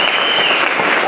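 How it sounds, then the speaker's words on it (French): A church congregation acclaims the Lord with a loud, dense burst of clapping and cheering during a sermon, filling the whole moment at close range. "Acclamez le Seigneur pour ce que je vais dire"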